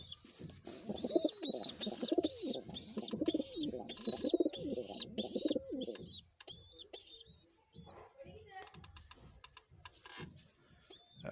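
A golden zeera female pigeon coos repeatedly at close range in a steady rolling rhythm for about six seconds, then scattered clicks and scuffling follow with no talk.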